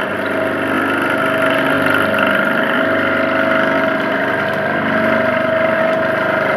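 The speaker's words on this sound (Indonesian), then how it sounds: "Ini penggeraknya motor." Motor driving a waste-recycling washing machine with a centrifuge stage, a loud steady mechanical hum and drone running unbroken throughout, close by, with no talking.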